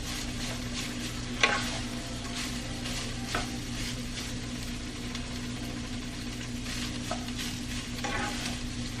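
Keto egg roll in a bowl mixture sizzles and fries steadily in a pan, a continuous bright hiss with occasional stirring scrapes and clanks, no talking.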